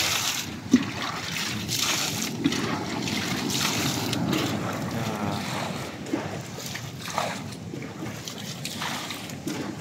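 Small boat moving on open water in gusty wind, with steady wind rumble and splashing, sloshing water around the hull; moderately quiet and continuous, occasional knocks, no clear talk.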